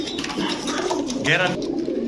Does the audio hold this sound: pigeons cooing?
yes